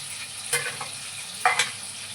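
A spoon stirs cooked vajdi (tripe) in a sizzling pan. Two or three short, close scraping clinks rise above a steady low frying hiss.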